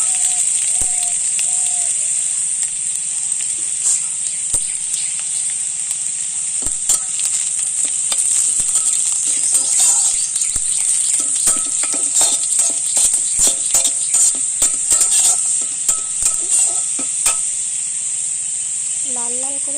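Onions frying on a traditional clay stove give a steady close hiss of sizzling oil, broken by scattered sharp scrapes and clicks of stirring, with a brief voice at the very end.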